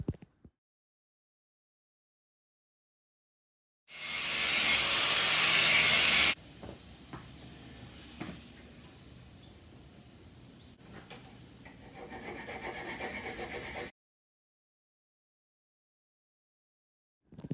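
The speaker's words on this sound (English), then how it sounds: "Now I've just got to sort of sand all the paint away" Sanding paint off the rear engine mount of a supercharged CT90/CT110 postie bike: a loud harsh rasping burst, then quieter intermittent scraping, then a steadier rough grinding stretch, close up with silence before and after.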